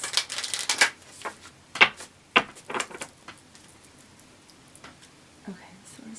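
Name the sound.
shuffling oracle cards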